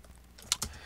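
Two quick clicks from a computer keyboard key, the Alt key pressed, sound close and crisp against a quiet background.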